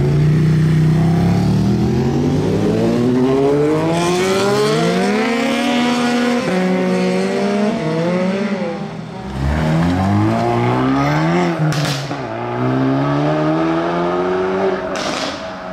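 A very loud BMW M3 G80 roars close by, its engine revving hard through rising gear sweeps with brief lifts between shifts and crackling pops, a continuous aggressive acceleration with no talk.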